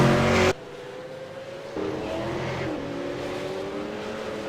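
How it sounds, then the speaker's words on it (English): A V8 Supercar engine roars at full throttle, heard from onboard during a race. A loud, sustained drone drops sharply at a gear change and then climbs again as the car keeps pushing hard. "Listening from onboard Leo's car, I don't think he's saving fuel"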